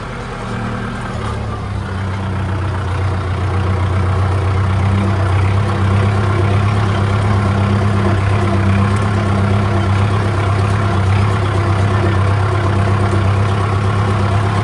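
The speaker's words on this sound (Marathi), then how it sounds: "काय आपल्याला लावायचं ट्रॅक्टर आता सावलीला" A tractor engine idling in a farm field, a steady low rumble that holds close and even throughout with no talk.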